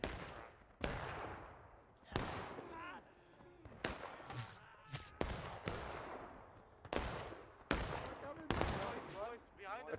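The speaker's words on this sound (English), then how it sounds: "It's artillery, guys." Cannon and gunfire booms from a War of Rights battle, a series of sharp loud blasts every second or two with rumbling echoes, while players shout over them.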